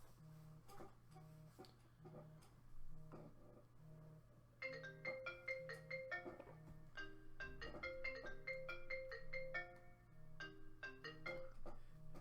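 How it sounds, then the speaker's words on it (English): A phone ringtone goes off during a Magic: The Gathering stream, playing a melodic sequence of repeated electronic tones over a steady low hum, fairly quiet and with no talk. "Excuse my phone going off there."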